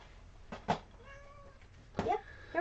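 A pet kitty cat meows several times indoors, with short sharp calls, a longer drawn-out wavering meow in the middle, and two more meows near the end, close and fairly clear.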